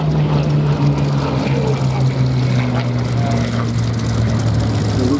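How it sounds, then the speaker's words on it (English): Hawker Hurricane propeller fighter passing at the Duxford VE Day anniversary air show: a loud, steady piston-engine drone under an announcer's commentary. "as the Hurricane runs through and off downwind land from the ground"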